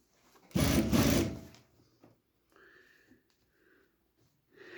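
A sewing machine stitches a seam on a pair of overalls in one short, close burst of fast, even whirring that lasts about a second. Quiet rustling follows.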